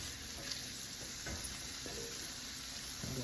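Onions and herbs sizzling in a pan with a steady frying hiss, broken by a few soft scrapes and clinks of stirring, moderately close and without talk.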